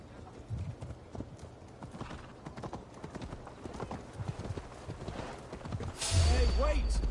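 Horse hooves clip-clop steadily in Assassin's Creed Valhalla on PS5, and near the end a loud, close whinny rises over the hoofbeats.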